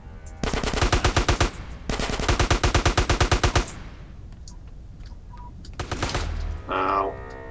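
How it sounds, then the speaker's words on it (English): Enemy gunfire in GTA San Andreas, a DYOM mission: two long, loud bursts of rapid automatic fire, a quieter gap with faint scattered noise, then a shorter burst and a final brief blast near the end. "Ow, he's shooting me"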